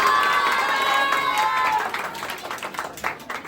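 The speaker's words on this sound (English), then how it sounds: "may we have the big round of applause" A crowd at an Independence Day celebration in India claps and cheers, steady and dense at first, then thinning into scattered claps and shouts as it fades.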